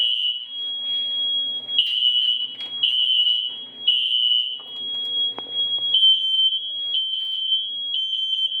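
An SFP1024 fire alarm panel with its power shut off sounds a steady, loud, high-pitched electronic tone in repeated pulses of about a second each, with a few brief gaps and some faint background rustling.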